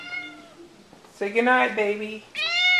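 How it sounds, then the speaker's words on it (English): A pet cat meows twice indoors at night, a drawn-out wavering cry followed by a shorter clear one, close and loud, with a person speaking softly just before. "She's meowing for you."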